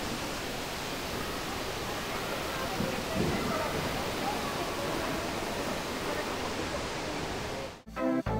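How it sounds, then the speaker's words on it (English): An indoor waterfall in Bengaluru airport's Terminal 2 gives a dense, steady rushing hiss of falling water, loud and constant until it cuts off abruptly just before the end. "we have that waterfall there,"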